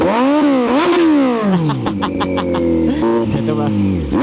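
A Kawasaki Z900SE motorcycle engine revs up and drops repeatedly, then winds through a rapid series of rising pulses as it accelerates, loud and close.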